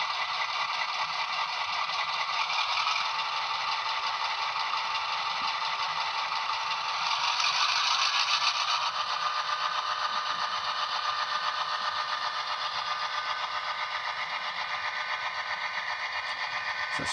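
A Bachmann HO-scale EMD F7 in Pennsylvania livery with a SoundTraxx DCC sound decoder idles steadily, a continuous buzzy diesel drone with a faint rattle and no speech throughout.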